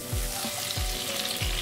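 Half a tomato drops into lightly browned onions frying in a pan for namkeen seviyan, giving a steady close sizzle with three soft low thumps at regular intervals, and no voices.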